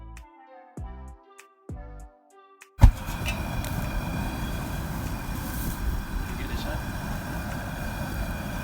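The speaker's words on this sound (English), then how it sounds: "Let's fire it up. Turn our gas on. Turn our pilot on." A turkey fryer's gas burner lights with a sudden sharp whoomp, then settles into a steady loud roar of flame; a few spoken words come before the ignition.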